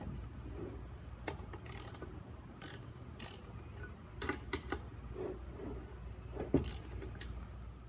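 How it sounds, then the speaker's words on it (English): Bolts being loosened from an engine tappet cover with a ratchet wrench, producing quiet intermittent ratcheting clicks and metallic handling in a series of short bursts, faint and close, with no speech. "So we can take both of these bolts off and take a look at what's inside."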